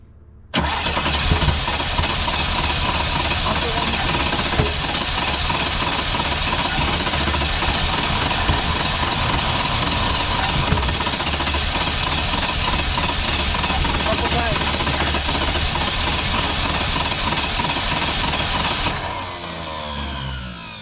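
An old scrap car being restored for a movie set starts up after the gas pedal is pumped, its engine catching and running loud and rough for most of the clip before easing down near the end, with voices briefly over it.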